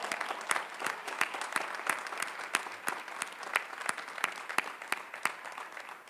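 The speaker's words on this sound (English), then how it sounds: "Let's give them a big round of applause." Applause from a modest crowd at a 2021 Northeastern University graduation ceremony, with distinct individual claps audible in an irregular patter, moderately loud and unaccompanied by talk.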